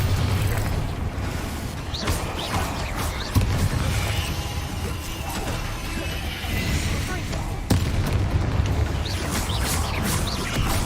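Bombarda and Confringo spell explosions in the video game Hogwarts Legacy, heard as a busy run of game combat with creaking, mechanical clatter and two sharp bursts, all mixed under a low rumbling bed.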